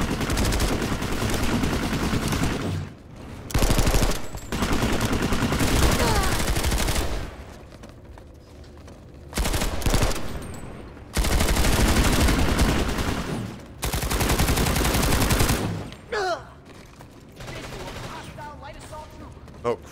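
Gunfire in the PS4 beta of the shooter Planetside 2 comes in loud, dense automatic bursts a few seconds long, separated by quieter gaps, with a player talking now and then between them.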